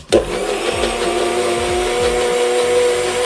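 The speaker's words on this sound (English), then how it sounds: "put it in my NutriBullet" A NutriBullet blender whirs up to speed to whip popover batter, starting with a sharp burst and then holding a loud, steady motor whine with a faint rhythmic churn.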